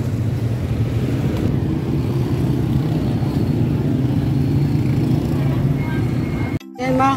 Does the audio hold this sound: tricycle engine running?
yes